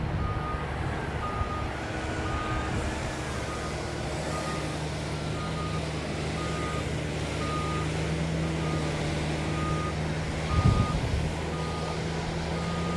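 A Volvo dump truck near a pond rumbles steadily while its reversing alarm beeps in a regular repeating pattern, with a brief heavier thump near the end.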